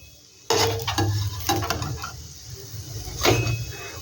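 A homemade evening snack frying in a little oil, a sudden burst of crackling sizzle that keeps popping and spitting close by, with scraping stirs and a swell of frying noise toward the end.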